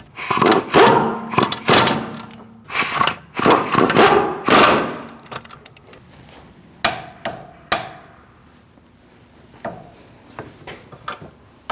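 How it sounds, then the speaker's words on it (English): Caliper bolts on a Chevrolet Cruze rear brake are snugged up and torqued, heard as bursts of ratchet clicking and metallic rattles at close range, then a few sparser clicks and taps trailing off. "We're going to snug these bolts up and torque them to 74 foot-pounds initially, and then turn them another 1/8 of a turn."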